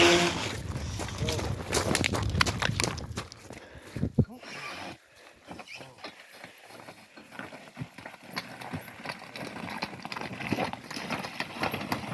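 A horse's hooves clip-clop on hard ground during a trial of horses for sale or trade, and people talk around it throughout.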